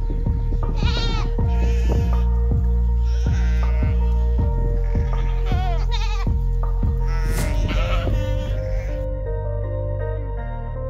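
A fat sheep bleats loudly and close by in a farmyard. Its repeated harsh calls rise and fall in a run of bursts, with a buzzing tone underneath.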